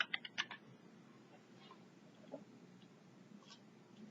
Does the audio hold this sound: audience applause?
no